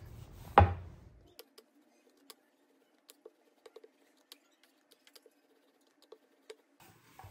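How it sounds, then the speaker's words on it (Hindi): Paratha dough is rolled with a rolling pin at a roadside stall: after one sharp knock, a series of soft, sparse wooden taps and clicks follow irregularly, faint and close in a quiet setting. "फिर से इसे बेलिए, हल्के हाथों से बेलिए।"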